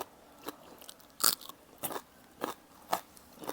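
Crisp bites and crunchy chewing on fried marinated pork neck, close and distinct, five or six sharp crackling bursts spaced about half a second apart with quiet pauses between.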